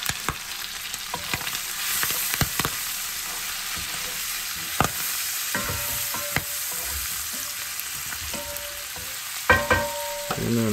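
Duck parts brown in a frying pan with a continuous crackling sizzle, broken by scattered clatters and scrapes of stirring, close by and with no speech.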